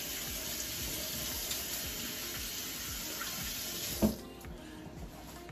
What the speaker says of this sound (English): Always wash your hands.